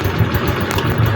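An engine runs at a steady idle while a vehicle battery charges, giving a loud, continuous rumbling drone with a slight uneven clatter and no pauses.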